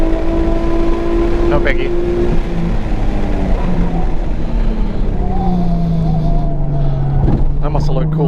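A race car slides sideways in a drift at 85 mph on a racing circuit, its engine a loud, close drone with rising and falling pitch sweeps, while the driver briefly speaks over it.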